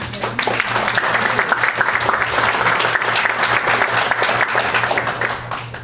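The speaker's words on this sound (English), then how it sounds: "actually applause is definitely deserved" Sustained audience applause at a city State of the City address in Hermosa Beach, many hands clapping loudly and evenly for several seconds over a steady low hum.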